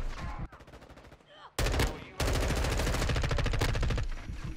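Gunfire in Call of Duty: Modern Warfare II, loud rapid automatic bursts with a brief pause, then a long sustained stream of shots, close and heavy.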